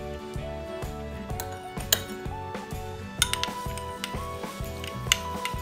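A spoon clinks and scrapes rhythmically against a bowl while a lemon juice and curd hair mask is stirred, with close, repeated taps and no speech.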